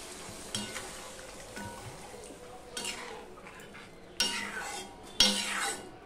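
Water added to a pan of frying fish curry masala with potato hisses and sizzles, with a spoon scraping and clinking against the pan in brief bursts over soft steady frying.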